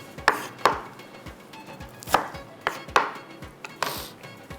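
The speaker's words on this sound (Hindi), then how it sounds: "बाकी प्याज को, शिमला मिर्च को बारीक बारीक चॉप कर लेते हैं" Onions and capsicum are chopped finely with a knife on a board, sharp irregular thuds at close range, several quick cuts spaced by short pauses, with no voices.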